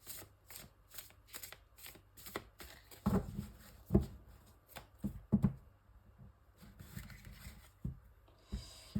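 Oracle cards are shuffled by hand for a tarot reading, with close, soft riffling and rubbing of card stock in irregular bursts, a few heavier thumps and brief pauses between.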